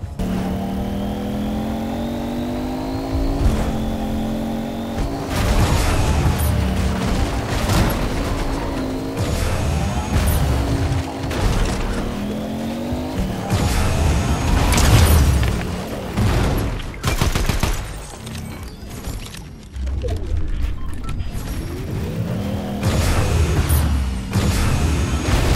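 A car drives through a Fortnite match, engine revving and shifting pitch over bursts of rapid gunfire and booming impacts, loud and busy throughout with no talk.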